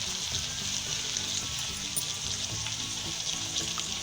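Chicken and vegetables frying with soy sauce and chili sauce for fried rice, a continuous close hiss and sizzle with soft stirring scrapes underneath.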